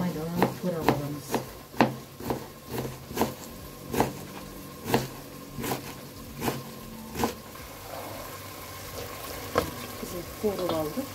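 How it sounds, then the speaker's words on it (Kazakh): A knife finely chops cabbage on a board for borscht, sharp regular thuds landing about twice a second, loud and close, with frying hiss in the background. "Сосын майдаланып турап аламыз."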